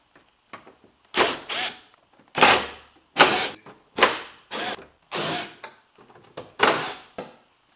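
Power tool bursts remove 10 mm screws from the spoiler of a Toyota AE86. Seven or eight short, loud whirring and ratcheting bursts are separated by brief pauses, close up with no talk.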